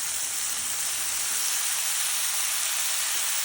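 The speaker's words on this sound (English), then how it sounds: "Now we're going to hit it with some Worcestershire." Worcestershire sauce sizzling on steak in a hot pan, a loud, steady, bright hiss that holds evenly throughout with no talk.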